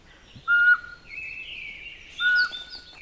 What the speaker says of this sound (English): And the pygmy owl.